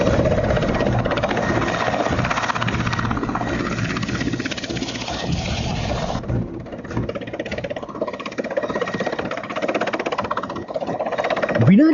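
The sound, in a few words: military aircraft flying in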